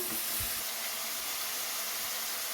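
Chopped tomatoes frying in a pan for a bottle gourd stir-fry, giving a steady soft sizzle and hiss throughout with no voices.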